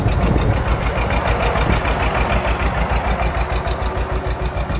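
An old two-cylinder John Deere farm tractor, nearly 60 years old, idles close by with a loud, steady, lopey putt-putt beat and no talking over it.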